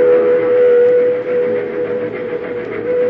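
A steam train sound effect in a 1946 radio drama, with a long, loud, steady whistle tone holding over a rumbling rail background, no voices.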